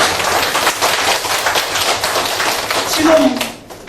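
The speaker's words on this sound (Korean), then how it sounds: "박수 한번 주시죠." Audience at a 2018 Busan academic conference on peaceful reunification clapping, a broad patter of many hands that holds steady at moderate loudness for several seconds, then swells briefly near the end before fading.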